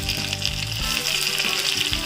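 Chopped garlic and chili sizzle hard in hot oil with browned cumin seeds for a tadka, a steady close crackling fry with a few stirring scrapes and no talking.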